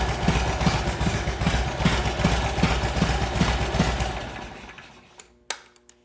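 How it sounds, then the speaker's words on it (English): A 1988 Harley-Davidson Softail Springer Evo engine idles close up with a loping, uneven thump-thump rhythm, warming up, then it is shut off and dies away, leaving a couple of sharp clicks and knocks. "We're going to go ahead and start the bike, let it warm up."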